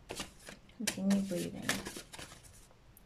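Tarot cards shuffled by hand, a soft, quick riffling beneath a calm, close speaking voice that talks through most of the moment.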